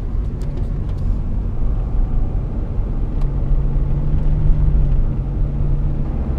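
A car drives along a road past a beach, its engine and tyre noise forming a steady, close, low rumble that holds even throughout with no talking.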